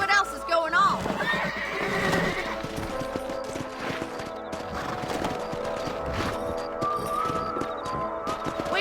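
Horses neigh and whinny while hooves clip-clop in the Red Dead Redemption video game, with loud, repeated whinnies over a running hoofbeat rhythm and some voices mixed in.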